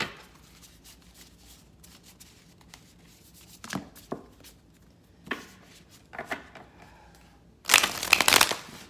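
Tarot cards being shuffled in a few short, crisp riffling bursts, ending with a louder, longer shuffle; no talking.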